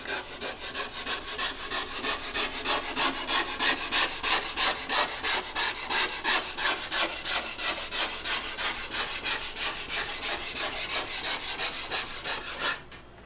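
A scraper works back and forth over a glass-top stove burner in quick, even strokes, a steady close rasping that carries on for about thirteen seconds before cutting off.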